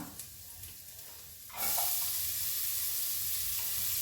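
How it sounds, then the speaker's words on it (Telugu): Onion dropped into a pan on a low flame sets off a sudden loud sizzle partway through, after quiet kitchen background, with steady frying hiss continuing to the end. "ఇప్పుడైతే నేను ఆనియన్ వేస్తున్నా"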